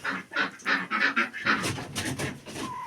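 Ducks and chickens kept in a poultry shed call in a series of rhythmic honking quacks, fairly close and moderately loud, followed by a busier stretch of mixed clucking and rustling.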